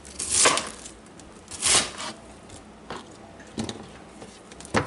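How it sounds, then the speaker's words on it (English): Cabbage being chopped into thin ribbons by hand with a knife, a few separate crisp cuts spaced irregularly, the loudest near the start, moderately close with a quiet background. "so I'm just chopping it into thin ribbons like this by hand"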